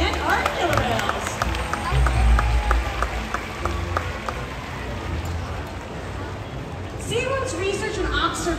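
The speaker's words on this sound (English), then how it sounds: "How about a round of applause for our volunteers and our killer whales?" Crowd applauding at the SeaWorld Orlando Orca Encounter killer whale show, a broad wash of clapping with splashy, running-like patter, and an announcer's voice talking over it.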